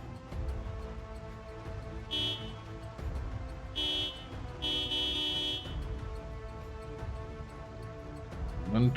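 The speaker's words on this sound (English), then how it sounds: "I'm gonna try a little bit of the honking tactic instead of the siren tactic." A car horn in the game Project Zomboid, used to lure zombies near a mall, sounds in three honks, one short and two longer, over a steady idling engine hum, fairly close and clear.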